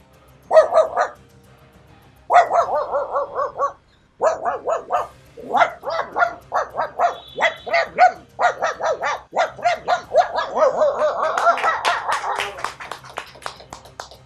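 A dog barks over and over, close and loud, in rapid bursts that grow more frantic and continuous toward the end.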